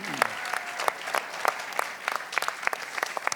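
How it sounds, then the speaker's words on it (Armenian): Applause from the audience at an Armenian comedy league show, with sharp individual claps standing out from a crowd clapping near the stage, lively and sustained, and some voices mixed in. "եկեք բարձր ծափ տան Գյումրիին"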